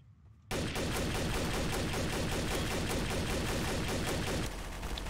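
Rapid automatic gunfire from a Trouble in Terrorist Town game blasts in a dense, sustained burst after a brief quiet start, loud and unbroken for several seconds.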